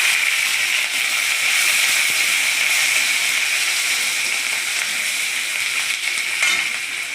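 Green chillies and garlic sizzle in a hot pan, a loud, continuous hissing fry that holds steady throughout with no talking.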